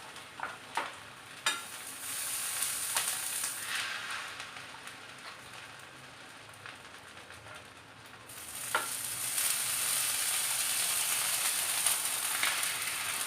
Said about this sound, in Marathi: तव्यावरती आपण क्रिस्पी आणि क्रंची होईपर्यंत सँडविच छान भाजून घेऊया